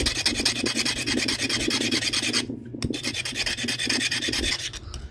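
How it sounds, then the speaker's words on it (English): Continuous close rasping of a pressure flaker tool being sharpened to a point for flint knapping, rapid back-and-forth strokes with a brief pause midway, no talk. "we're going to sharpen this tool up to a point"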